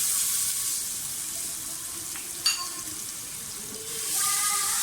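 A steady hiss of garlic ginger paste frying in hot cooking oil, close and fairly loud, with a brief clink partway through and no speech.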